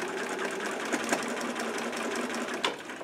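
A sewing machine top stitching a quilt, heard as a steady, fast mechanical whir and chatter running continuously at close range, moderately loud, with no voices.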